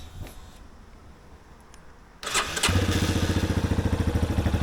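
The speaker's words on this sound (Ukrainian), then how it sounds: "Зараз заведемо інжектор у нас." A fuel-injected motorcycle with a Japanese exhaust starts up: a quiet lead-in, then the engine catches with a loud burst and settles into a steady, close, rhythmic idle with no talk over it.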